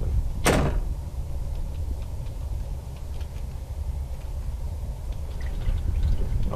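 A single short door sound in the horror video game Ao Oni, a sharp click or thump near the start, followed by a low ambient hum with no talking.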